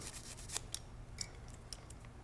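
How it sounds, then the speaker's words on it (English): Nylon brush scrubbing the carrier notches of a Benelli M2 semi-auto shotgun bolt, several short bristly scratches close up over a steady low hum. "I like to take a nylon brush and just brush out these notches"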